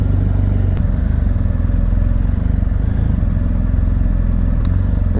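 A BMW GS Adventure motorcycle pulling away, its engine a loud, steady low drone with a continuous mechanical rumble close by, and no talking.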